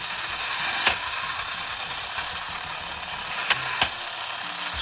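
A 1980s Tomy Kongman mechanical Donkey Kong toy runs with a steady low whirring mechanism, punctuated by a few sharp clicks as its top arm strikes the side of the casing, close up and without talk.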